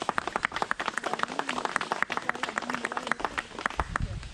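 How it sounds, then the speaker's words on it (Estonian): A small gathering claps at a cemetery ceremony blessing restored ring crosses, outdoors. Distinct individual claps ring out in a brisk, irregular patter, close and clear, with a voice briefly audible beneath. "Teeme üks ilus aplaus."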